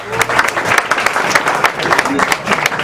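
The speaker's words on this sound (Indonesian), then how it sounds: "Tepuk tangan untuk Omah Munir." An audience claps at a stand-up comedy event at Omah Munir, with brisk, dense applause throughout and a voice speaking over it.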